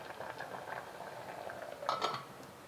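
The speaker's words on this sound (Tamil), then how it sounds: "நல்ல கொதி வருது." Cassava bubbling at a steady boil in a covered pot on a medium flame, a soft continuous simmer with a brief louder clatter of the lid or pot near the end.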